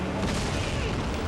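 A boss fires fire lasers in Dark Souls, heard as a loud, sustained roaring blast that fills the whole short moment without a break.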